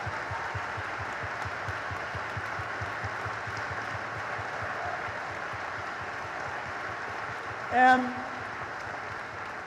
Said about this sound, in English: Let's have all them stand and give them a big round of applause.